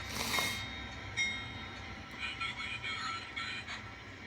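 A model train locomotive running on an apartment layout track, a soft continuous rolling rumble with faint clicks and a brief louder burst at the start, close and quiet.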